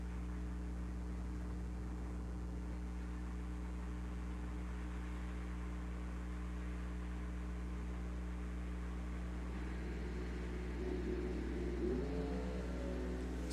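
Door-car drag racing machine idling and revving at the line, a steady low engine drone throughout that builds into a louder rising rev near the end.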